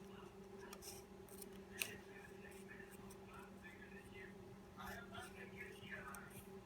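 Scissors cutting lens material for a Spider-Man mask, heard as quiet, close snips and soft rustling against a steady electrical hum, with one sharper click.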